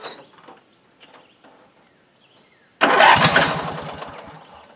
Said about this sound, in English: So I'm going to give it a little choke, and we're going to give it a touch and see what happens.